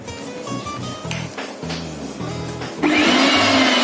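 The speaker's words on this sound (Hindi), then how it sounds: "देखिए मिक्सर हमारा चल रहा है," A mixer grinder being tested on mains power after repair starts up with knocking and whirring, then settles into a loud, steady high-pitched motor whine close by.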